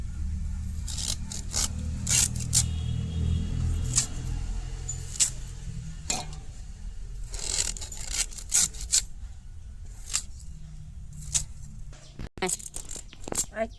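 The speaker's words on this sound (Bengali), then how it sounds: "এরকম এরকম ছোটো ছোটো করে কাটি আটটা" A knife cuts sugarcane into small pieces at home for juice, giving a series of close, short scraping and chopping strikes in uneven bursts over a low background rumble, with a few louder knocks near the end.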